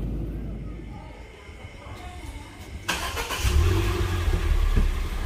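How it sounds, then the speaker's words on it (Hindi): A car pulls away from the airport in Port Blair, Andaman, with engine noise swelling into steady, louder driving rumble partway through, heard from inside the vehicle. "तो अभी ये सुकान का गाड़ी है जिसमें अभी हम घर जाएंगे।"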